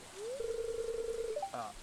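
Steady, soft rain falls in the farming game Stardew Valley. A quiet hiss runs throughout, with a long rising electronic tone and a few short chime-like notes over it.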